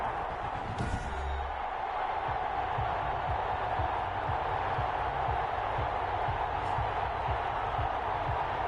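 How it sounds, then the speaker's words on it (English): Stadium crowd murmur in a football video game before a Chicago versus Salt Lake City matchup, a steady, moderately faint wash of crowd noise with a few soft thumps and no talk. "This crowd is ready as their guys get set to match up"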